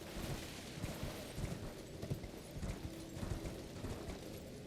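Hooves of the spirit horse Torrent galloping in the Elden Ring video game, a steady run of soft rhythmic thuds under a continuous rushing background, fairly close and moderately loud throughout.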